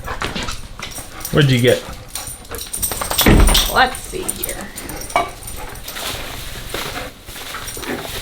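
Dogs inside an RV whimper, yip and let out a few short barks, close by and scattered through the clip while people chat over them.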